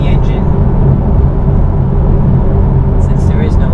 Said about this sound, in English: You can hear the road noise too, see?